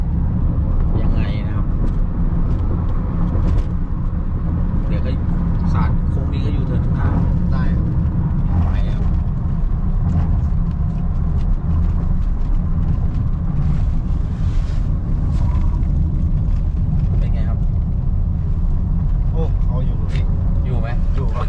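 A car on Silver Neomax One shock absorbers sweeps fast into a curve at about 80 km/h. A loud, steady roar of road and wind noise fills the cabin throughout, with voices faintly underneath.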